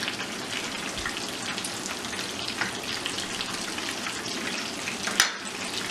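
Cheese balls frying in hot oil while being turned with two spoons, giving a steady close crackling sizzle with a sharper pop near the end and no talking.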